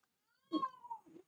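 A single cat meows once, close and clear, a short rising-then-falling call with a softer trailing murmur, in an otherwise quiet indoor room.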